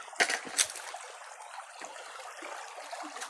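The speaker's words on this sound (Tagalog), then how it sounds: "Dito na tayo sa sapa." A small creek flows nearby with a steady, soft watery rush and a couple of brief louder splashes near the start, fairly faint and continuous.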